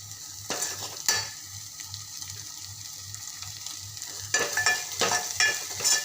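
A medium tomato cooks in a pan with a steady close sizzle, broken by spoon stirring scrapes and a louder burst of frying near the end, with no speech.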